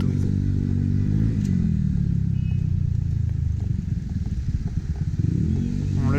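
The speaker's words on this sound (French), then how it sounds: "j'avais ce gros scooter là à gauche avec son pot à Krapovic là qui me collait les fesses" A big scooter fitted with an Akrapovic exhaust rumbles loudly close behind during a city commute from Courbevoie to La Défense, its engine note steady, then rising and falling as it revs.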